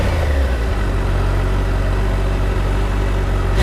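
A 2014 Kawasaki Concours 14 motorcycle with stock exhaust runs close by, giving a steady, loud engine drone with a deep low rumble throughout and no voices.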